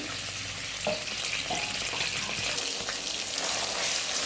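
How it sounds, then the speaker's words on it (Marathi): Finely chopped garlic and green chilies fry in hot oil in a kadhai, giving a dense, constant sizzle with occasional stirring scrapes, close and loud, with no speech. "आता बघा तेल गरम झालंय यातच टाकूया आपण आता बारीक केलेलं लसूण आणि मिरची"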